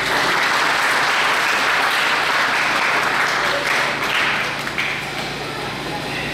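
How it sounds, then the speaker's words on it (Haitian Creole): A crowd applauds loudly and steadily at a solidarity day gathering in Haiti, sustained clapping that eases slightly toward the end, with a voice speaking over it. "Applaudis encore une fois"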